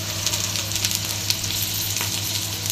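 Onions and green chillies sauté in a pan for chicken biryani, a dense, even sizzle with light crackling pops, close up and continuous with no voices.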